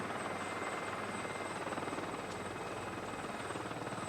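A helicopter drones steadily in the background, with a continuous rotor thrum and broadband whine holding at an even, moderate level throughout, no voices over it.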